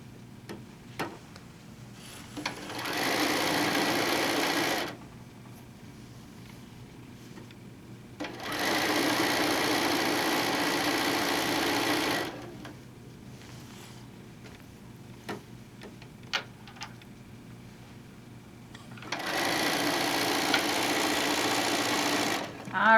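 Sewing machine stitching quilt blocks, running in three separate steady bursts of several seconds each. Quiet pauses with faint handling noises fall between the bursts.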